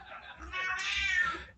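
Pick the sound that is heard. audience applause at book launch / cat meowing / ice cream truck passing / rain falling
cat meowing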